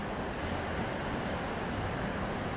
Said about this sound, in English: they aren't even the bestest of waves